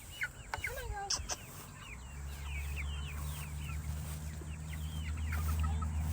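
Chickens cluck and murmur softly nearby in a farmyard, with scattered bird calls over a low steady hum and faint rustling.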